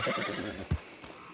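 A horse whinnies in the Red Dead Online video game, a moderately loud neigh followed by a soft thump and a few faint hoof clops.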